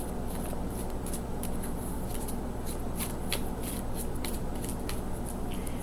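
A deck of cards is shuffled close up in a continuous run of crisp riffling and flicking, steady and fairly loud with no talking.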